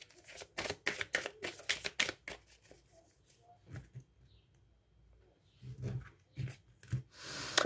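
Tarot cards being shuffled and cut at a table, quiet riffling flutters and soft slaps in quick clusters, then sparse taps and a few thuds.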